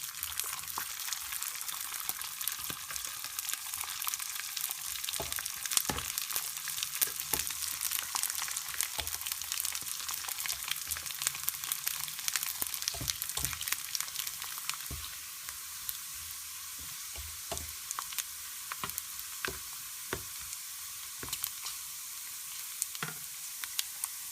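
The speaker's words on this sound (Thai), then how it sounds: "เมื่อน้ำมันร้อนได้ที่แล้วให้นำหมูใส่ลงไปทอด" Pork pieces deep-frying in hot oil to make Thai cracklings give a continuous loud, crackling sizzle with scattered pops and bubbling, steady and close throughout, with no talking.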